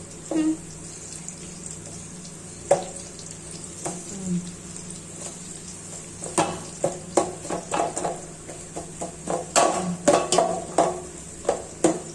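Sliced onions fry in hot oil for mushroom biryani, cooking toward golden brown, with a steady sizzle broken by scraping stirs and clinks of a utensil against the pan, growing busier toward the end.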